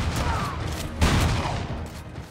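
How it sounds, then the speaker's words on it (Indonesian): A burst of gunfire in a gangster action film sounds amid a noisy, chaotic scene, with a sharp crack standing out near the middle over rumbling background din. "Karena suara tembakan itu"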